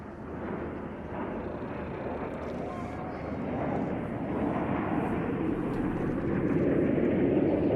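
Jet aircraft of an aerobatic team fly in Diamond formation at an air display, a broad roaring rush of engine noise that swells gradually louder, with a commentator talking over it.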